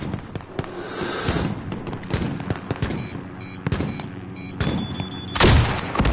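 Incoming mortar explosions in a PS4 online shooter arrive as a rapid, crackling barrage of sharp blasts and booms, dense and loud, ending in a heavier close impact.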